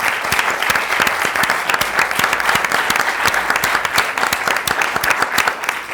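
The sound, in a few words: audience applause for the bagpipers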